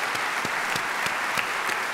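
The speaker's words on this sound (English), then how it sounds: "Let's give yourselves a big applause." An audience at a teacher appreciation event claps steadily, a dense, even wash of applause from a crowd with no pauses across the brief stretch.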